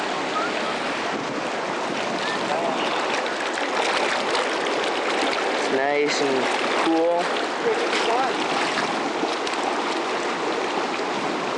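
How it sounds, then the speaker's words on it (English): The river at Entry Creek rushes in a loud, continuous broadband roar close to the microphone, with wind buffeting at times and a person speaking briefly over the water. "we were just chilling down by the river here, by Entry Creek"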